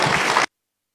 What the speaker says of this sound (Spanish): Con fuertes aplausos le recibimos.